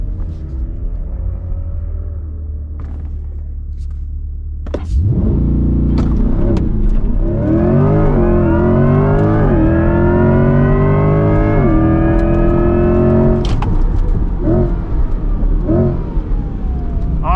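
A 2024 Chevrolet Corvette E-Ray launching hard on a track, heard from inside: a steady idle, then a sudden surge into loud rising engine and electric whine that sweeps upward through several gear changes, close and dominant.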